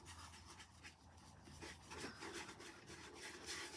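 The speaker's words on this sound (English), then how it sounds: "I'm just putting a little bit all over just so that I get that nice and even, and then I rub it in" Wax being rubbed by hand into the surface of a watercolour painting, a steady dry scraping friction with a rhythmic back-and-forth texture, close and fairly quiet, with no talking.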